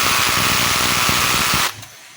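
A DeWalt DCD780 cordless hammer drill runs loud and close while tightening a screw, a steady whirring buzz for about a second and a half that stops abruptly.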